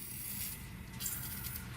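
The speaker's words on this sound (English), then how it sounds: "I'm going to take some penetrant here and I'm just going to spray some stuff down." Penetrant sprayed onto exhaust bolts under a 2008 Pontiac Torrent with a 3.4L engine, a steady close hiss held for nearly two seconds with no talk.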